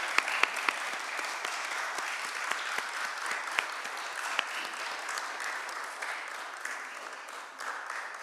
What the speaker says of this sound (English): I think we are allowed to clap.